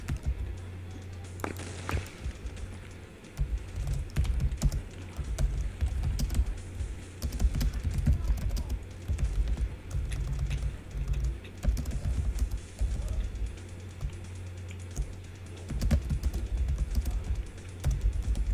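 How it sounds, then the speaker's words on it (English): Computer keyboard typing during a first-person shooter game session, a near, steady stream of rapid clicking keystrokes in irregular bursts over a low background hum, with no talk. "I hear you typing away."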